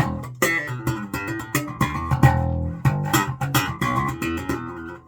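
A bass guitar with its Ken Smith preamp switched off plays a punchy, plucked riff with quick, percussive notes and a bright, biting attack, no voices over it.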